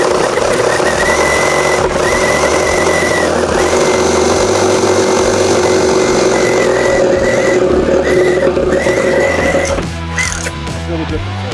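A Makita power tool runs continuously with a steady high whine and engine-like drone, loud and close, cutting off near the end, with talk over it.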